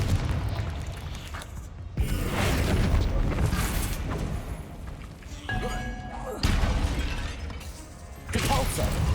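A Confringo blasting spell from the Hogwarts Legacy video game goes off in loud, repeated booming bursts with crashing debris and thuds, layered over busy game sound effects.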